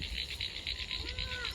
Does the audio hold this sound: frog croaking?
yes